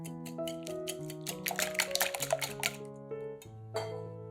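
Eggs with salt, sweet paprika and black pepper are whisked in a bowl for a zucchini casserole, with quick light metallic clinks and taps against the bowl over background music.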